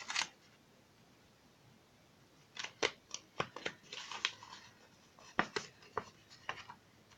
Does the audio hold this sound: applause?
no